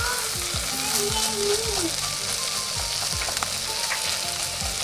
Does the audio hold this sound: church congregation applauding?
no